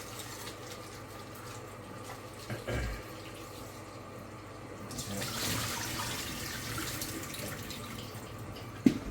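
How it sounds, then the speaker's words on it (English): Kitchen sink tap runs briefly over freshly peeled and cut potatoes being rinsed, a soft steady splash of water building midway and continuing at moderate level in a quiet kitchen. "I'm going to bring them over to the sink quickly, just a bit of water, just to clean them off."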